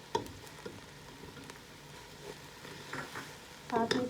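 Cabbage with salt and black pepper and spring onions sizzles softly in a pan while being stirred, with intermittent scraping clicks and a louder stir near the end, faint and close.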